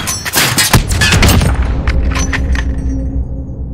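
Sniper rifle shots in Call of Duty: Modern Warfare: a loud, booming burst of several sharp reports in the first second and a half, then a ringing, fading tail with no talk.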